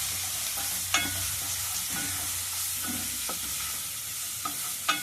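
Green chillies sizzle steadily in hot tempering oil, with a continuous bright frying hiss and a few sharp crackles and pops scattered throughout, with no talking.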